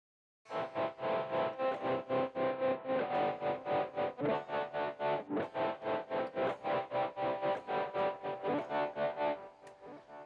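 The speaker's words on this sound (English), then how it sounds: "That's a tremolo effect that basically just brings the volume curve up and down very quickly of a sound" Sustained music with a tremolo effect, its volume pulsing rapidly and evenly up and down in a steady rhythmic throb before tapering off.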